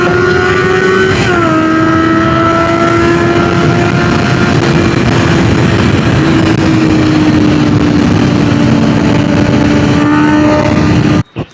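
Two sport motorcycles, a Honda CBR650F and a Kawasaki Ninja 636, accelerate hard in a friendly drag race. A loud, sustained engine roar climbs through the gears with a clear pitch drop at a shift, then cuts off abruptly at the end.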